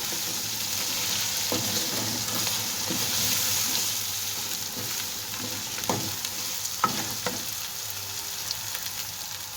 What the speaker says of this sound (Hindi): हमारा जो गोश्त है ये बहुत ही अच्छी तरह फ्राई हो चुका है।